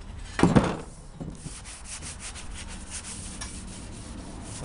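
Hand sanding loose rust and flaking paint off a metal go-kart frame, with close rhythmic scraping strokes, a heavier burst near the start, then repeated lighter rubbing passes.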